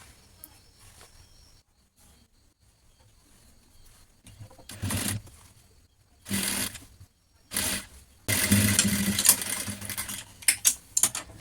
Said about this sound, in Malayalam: നമുക്ക് ഈ നെക്ക് മൊത്തത്തിൽ ഇത് സ്റ്റിച്ച് ചെയ്തെടുക്കാം ഈ എൻഡ് വരെ സ്റ്റിച്ച് ചെയ്തെടുക്കാം